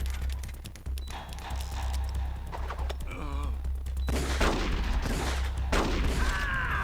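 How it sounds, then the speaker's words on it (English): Gunfire crackles in a boss fight in Metal Gear Solid: The Twin Snakes. Rapid, loud shots repeat steadily over a thick rumbling game soundtrack, with sharper bursts near the end. "Just gotta stand here and shoot this man."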